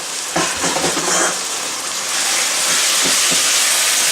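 Chopped broccoli sizzles and fries in garlic oil in a pan, a loud steady hiss with a few scraping stirs near the start and again around the middle, no voices.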